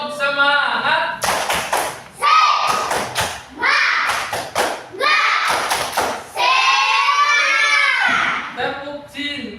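Children in an Indonesian classroom chant a rhythmic clapping routine together, sharp broadband claps landing in quick groups between loud sung voices, close and energetic throughout.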